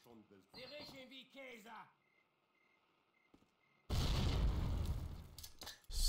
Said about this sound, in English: I'm thinking a grenade